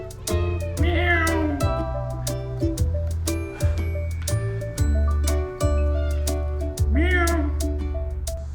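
Repeated meows rise over steady musical backing, with bright chimes and a low droning pulse underneath; the mewing cries return a couple of times, clear and close.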